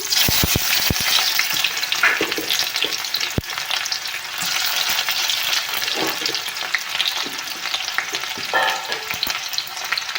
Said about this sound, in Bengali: এখন আমি পেঁয়াজ দিচ্ছি